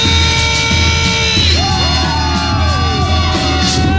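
A crowd at a skate park show yells and cheers in a sustained roar, with shrill whoops rising above it and a musical tone running underneath.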